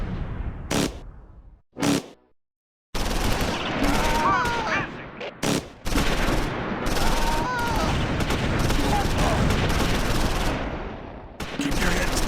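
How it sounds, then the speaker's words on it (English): Battlefield gunfire from the WWII strategy game Close Combat 4, Battle of the Bulge at Wiltz: a few isolated shots, then dense sustained machine-gun and heavy fire with booms rolling on for several seconds, loud and continuous. "And machine gun and tank fire."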